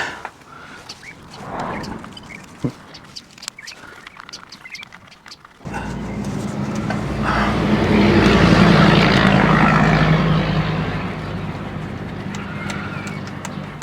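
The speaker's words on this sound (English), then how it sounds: "There's somebody local to me who straight piped a Land Rover Discovery" A straight-piped Land Rover Discovery nearby roars up with a loud, raw exhaust drone that swells, holds, then tapers off, after quieter clinking and ambient noise.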